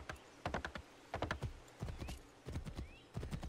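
Steady clip-clop of horse hooves in Assassin's Creed 3, loud and close, in uneven bursts with a faint whinny-like texture behind it.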